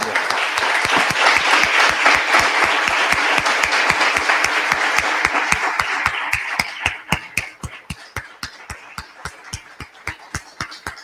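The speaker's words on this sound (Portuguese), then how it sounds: "Mas primeiro vamos aplaudir." An audience at a mathematics education talk breaks into dense applause that gradually thins into slower, rhythmic unison claps, each sharp and distinct, continuing steadily to the end.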